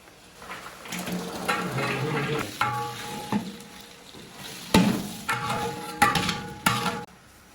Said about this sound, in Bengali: এগুলো দেওয়ার পর কিছুক্ষণ নাড়তে হবে।